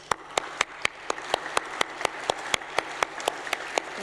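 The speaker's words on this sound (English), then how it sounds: "So I'd like to take a moment to applaud Benasser and all his efforts" At a road safety ministerial conference, sparse, evenly spaced claps ring out about every quarter second, a small scattering of hands over a quiet room.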